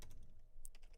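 Rapid clicking of computer keyboard typing, a steady run of light keystrokes close to the mic during a live stream.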